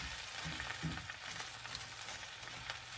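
Onion fries in a pan beside spinach for enchiladas and keeps up a soft, even sizzle. A few faint scrapes come in as it is mashed down, and nobody speaks.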